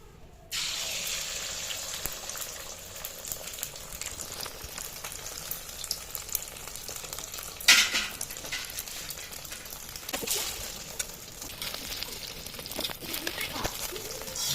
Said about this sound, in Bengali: আমি আগে ডিমটা ভেজে নিই।